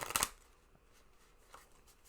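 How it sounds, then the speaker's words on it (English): A quick, brisk riffle of tarot cards being shuffled, one short burst at the start, followed by near silence with faint rustles. "I will shuffle this card even though I already shuffled them a bunch."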